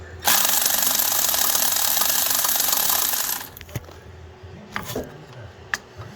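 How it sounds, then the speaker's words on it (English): Electric ratchet working on the rear suspension of a 1984 Corvette C4, a loud close buzzing whir for about three seconds, then stopping, followed by a few clinks of tools. "I just got my electric ratchet real quick."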